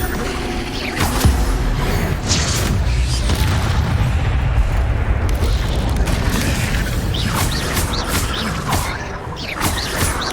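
Fire spell cast over and over during a spider fight in Hogwarts Legacy, heard as loud whooshing bursts and booms over a dense, steady wash of combat noise with mechanical creaks and crashes.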